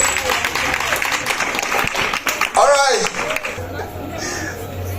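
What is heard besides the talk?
audience applauding the pageant contestants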